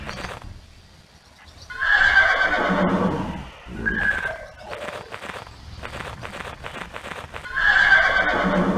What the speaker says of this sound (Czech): Jo, zase bude řechtat jak pitomá.